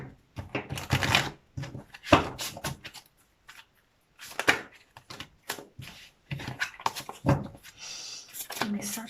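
A deck of Archangel Michael oracle cards is shuffled in several close bursts of riffling and flicking, broken by short pauses. A soft voice may be heard faintly.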